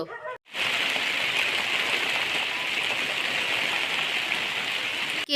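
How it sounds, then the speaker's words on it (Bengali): Heavy monsoon rain pours down without a break on a mud house, a dense, close hiss that stays steady throughout. "ঝমঝমিয়ে বৃষ্টি নেমেছে আকাশে, দেখতে পাচ্ছ?"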